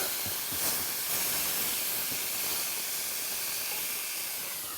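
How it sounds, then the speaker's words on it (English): Bacon and eggs sizzle in a pan over an open campfire in the outback, a steady, bright hiss and crackle holding evenly throughout with no voices. "You can't beat bacon and eggs sizzling on the open fire"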